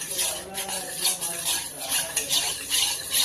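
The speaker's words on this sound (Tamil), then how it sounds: "இதை நல்லா கட்டி இல்லாம கலந்துக்கலாம்" A spoon stirs custard mixture in a bowl or pan, with repeated scraping and clinking strokes at a moderate level, mixed smooth without lumps.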